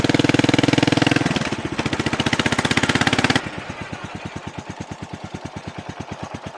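A Suzuki S40 motorcycle engine with a modified exhaust runs close by in loud rhythmic pulses. It revs briefly, then settles into a slower, deeper, muffled idle thump.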